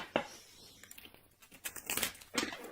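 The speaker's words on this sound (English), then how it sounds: "So there's a terrible shuffle." Quick papery riffles and soft slaps of tarot cards being shuffled at close range, in uneven bursts with short pauses between.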